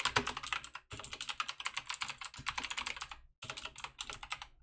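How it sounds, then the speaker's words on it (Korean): Rapid typing on a mechanical keyboard during a coding session, a dense run of crisp clicky keystrokes with two brief pauses, close and clear with no talking. "요즘 기계식 키보드 쓰니까 가끔 두 개씩 눌려요."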